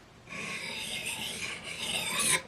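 A knife blade with a zero-tolerance straight-razor-type grind being sharpened makes a continuous close rasping stroke, one long rub lasting about two seconds that rises slightly in intensity before stopping abruptly.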